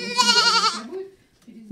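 Goat kids bleat loudly at a country house in winter, a close, wavering bleat lasting under a second and then trailing off into quiet.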